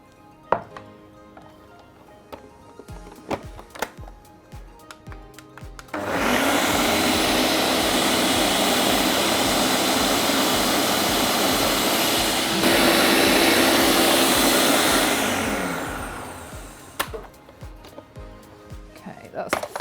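A blender whirs loudly and steadily for about eleven seconds, pureeing watercress, onion and potato soup, after a few clatters and kitchen knocks, with the motor winding down at the end and speech around it.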